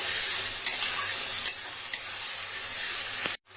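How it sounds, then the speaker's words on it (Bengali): Ginger garlic paste frying with fried onions for chicken and potato curry, a bright steady sizzle punctuated by several scraping stirs of a spoon, cutting out abruptly for a moment near the end. "এখন আদা রসুনের যে পেস্টটা বেটেছি যে এটা দিয়ে দিচ্ছি দিয়ে একটু ভালোভাবে নেড়ে নিচ্ছি"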